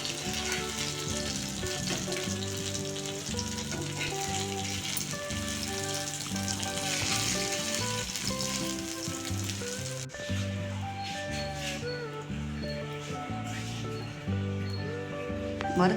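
Fish frying in a pan gives a steady, continuous sizzle that runs the whole time beneath a loud musical backdrop, with no clear pauses or stirring strikes.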